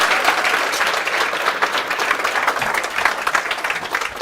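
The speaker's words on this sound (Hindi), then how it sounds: "जोरदार तालियां से स्वागत कीजिए." Loud, sustained applause from a studio audience welcoming a guest on a show, thick crowd clapping with uneven swells and no clear speech over it.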